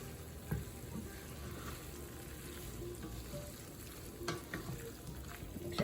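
Sausage sizzles in a pan with vegetables and cream cheese, a soft steady frying hiss with occasional stirring scrapes and clicks.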